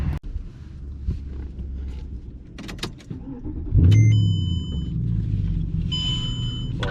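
A 2008 Mercedes CLS63 AMG coupe starts moving, its low engine rumble swelling loud and close a few seconds in and then holding as the car pulls away, with a few clicks and knocks at the start.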